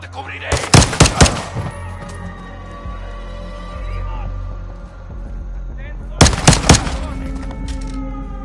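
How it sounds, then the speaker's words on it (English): Video game gunfire: loud, sharp bursts of rapid shots come early and return near the end, with a quieter ambient stretch and faint background tones between the volleys. "A gunfire alerted them."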